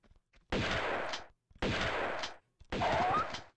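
Three separate gunshot bursts from a video game, each about three-quarters of a second long and spaced about a second apart, loud and sharp with no talk.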